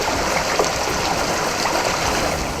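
Raw water pours into a treatment plant reservoir where aluminium sulphate is added, a loud, steady, close rushing flow that stays constant throughout.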